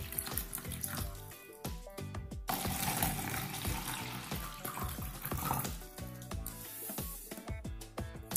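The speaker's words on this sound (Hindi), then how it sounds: "और मैं इनमें सिंपल टैप वाटर डालूंगा इक्वल क्वांटिटी में।" Plain tap water pours into containers in a steady, close splashing stream, prepared in equal amounts for a detergent demonstration, with no talking.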